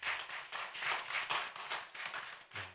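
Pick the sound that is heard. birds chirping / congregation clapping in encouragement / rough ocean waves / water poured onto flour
congregation clapping in encouragement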